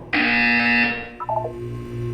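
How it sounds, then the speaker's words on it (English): Buzzer from the Portal video game sounds once as a loud, steady electronic tone lasting nearly a second, followed by a softer low hum and a few quieter blips. "When you hear the buzzer, look down at the floor."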